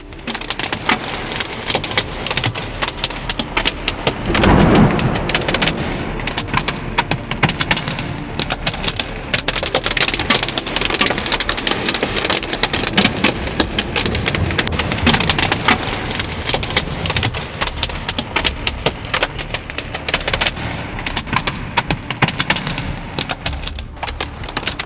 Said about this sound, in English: we had never experienced hail like we did this night